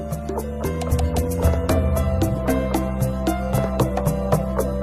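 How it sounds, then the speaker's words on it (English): Excess liquid drains from a 10-kilogram block of pressed cheese curd, a steady run of drips and trickles over a constant low mechanical hum in a cheese-making workshop. "To get all the excess liquid out of the curd, he turns each 10-kilogram piece of cheese over so he can press it again."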